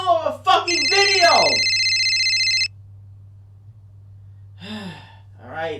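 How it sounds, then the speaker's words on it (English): Telephone ringing in an electronic, steady tone for about two seconds after a voice exclaims, then silence broken by further short vocal sounds. "I'll answer the damn phone."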